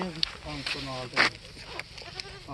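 A goat at a goat market bleats a few times up close, short wavering cries mixed with a person talking nearby.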